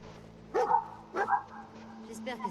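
A dog barks in the Fallout 4 video game, two or three short barks spaced about half a second apart, fairly close, with a faint whimpering tail at the end over quiet game ambience.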